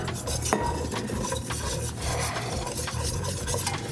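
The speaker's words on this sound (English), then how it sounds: "So the butter's pretty much melted. So we're going to go with our flour, making just a classic roux here." Flour is whisked into melted butter for a roux in a pot, a rapid rhythmic scraping of the whisk over a soft sizzle, close and steady for several seconds, with no one talking.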